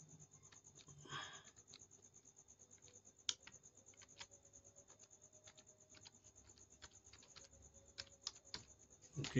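Soft, close keystrokes on a computer keyboard as a password is entered, a steady run of quiet taps with a few sharper key hits over a faint electronic whine.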